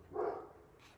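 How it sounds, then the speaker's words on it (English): A dog barks once nearby in a room where someone is painting, a short muffled bark in an otherwise quiet space. "sorry, Charlie's barking"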